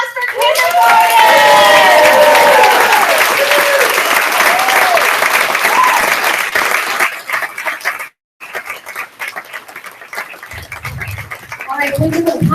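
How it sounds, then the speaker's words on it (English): An audience at an elementary school kindergarten fashion show claps and cheers loudly, with children shouting over the applause; it thins out and breaks off briefly, then scattered clapping and voices return. "How about another round of applause for kindergarten?"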